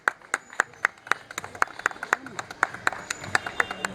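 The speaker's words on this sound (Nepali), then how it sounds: "उहाँलाई यो गीत अलिकति ताली बजाइदिनुहोस्" An audience at a ceremony claps along to a song in a steady, even rhythm, about four claps a second, crisp and fairly close, with faint voices underneath.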